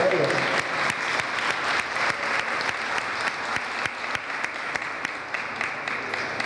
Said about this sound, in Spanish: Fuerte el aplauso para ellos.